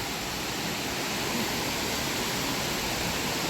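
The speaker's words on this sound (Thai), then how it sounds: "จะเป็นน้ำตกลงมาแล้วจะเป็นลำธารนะลุลอง มันเป็นลำธารลงมา" Waterfall pouring into a clear stream at a campsite, a steady, dense, loud rush of water with no pauses and no voices.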